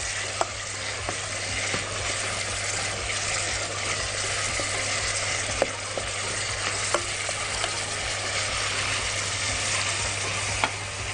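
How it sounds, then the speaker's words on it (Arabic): Chicken pieces sizzle steadily in a hot pan as they are turned, a constant frying hiss with a low hum underneath and occasional sharp clicks of a utensil against the pan. "ونقلب الفراخ تقليبه."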